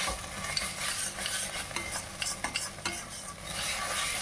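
Poppy seed paste and spices frying over a high flame in a pan for a drumstick curry, stirred continuously: a dense, close hiss of sizzling with scraping spatula strokes throughout.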